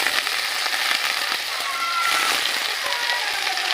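Taro leaves drop into hot oil with garlic paste and nigella seeds, giving a dense, bright crackling sizzle that stays loud and steady throughout, with no clear voice over it.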